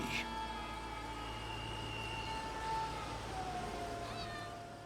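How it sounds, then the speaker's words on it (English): A cat meows in the Elder Scrolls Online video game during a quest near a smuggler camp: one clear, close meow at the start, then a sustained tonal hum and faint game ambience fill the rest. "You did it, Winks. Good kitty"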